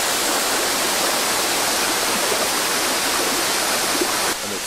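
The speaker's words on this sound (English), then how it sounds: "Most fantastic waterfall in the background." A waterfall beside a river at a camp in the Bolivian jungle pours in a steady, dense hiss with no change in level and no voices.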